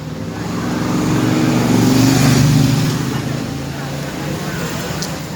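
A Honda BR-V car driving, heard as a steady engine and road hum that swells to a peak and then eases off, with a voice speaking over it.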